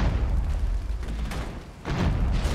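Artillery rumbles in the Regiments war game as a dense, continuous low roar of booming fire, with a fresh heavy burst near the end. No one speaks.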